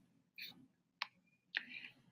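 Computer mouse clicks during a website form entry, three sharp quiet clicks spaced apart in a near-silent room.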